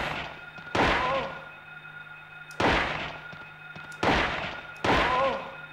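Handgun shots fired at nurses in the video game Silent Hill 2: four loud, sharp reports at uneven intervals, each with a short echoing tail over a low steady hum.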